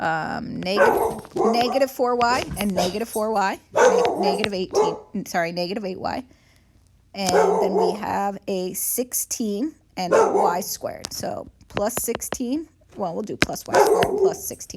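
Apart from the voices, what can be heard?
dog barking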